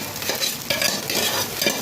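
Chilli parotta tossed with egg in a hot pan, a steady close sizzle and fry with scraping stirs and a few sharp clinks of the spatula, no voices.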